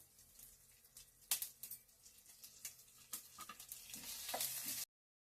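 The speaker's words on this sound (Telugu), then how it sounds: "కొద్దిగా జీలకర్ర వేద్దాం పట్పట్లాడుతుంది కదా" Cumin seeds splutter and sizzle in hot oil for a coconut raw mango chutney, with sharp crackling pops that build steadily toward the end, close and fairly quiet, with no talking.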